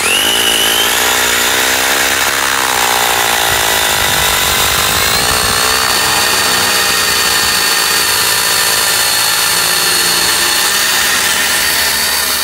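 A Traxxas Rustler 2WD RC car's electric motor, running hot, whines loudly and steadily throughout a burnout, its high-pitched tone rising and sliding across the whole stretch with no talk.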